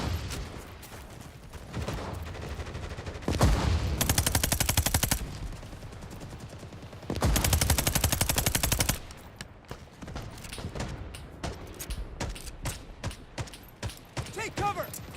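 Machine gun fire in the Cold War tactical shooter '83, loud bursts of automatic fire broken by quieter stretches and scattered single shots, with talking over parts of it.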